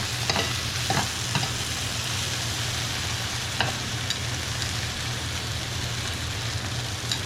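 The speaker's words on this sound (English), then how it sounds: "Let all the onion pieces make contact with the skillet." Onion pieces fry in a skillet with a steady, continuous sizzle, broken by a few soft stirring clicks, close and moderately loud with no voices.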